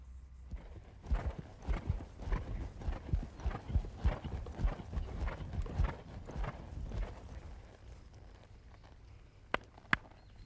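Horse hooves clip-clopping under a rider during basic horsemanship work, a steady rhythmic series of hoofbeats close by for most of the stretch, fading toward the end with a couple of sharp knocks.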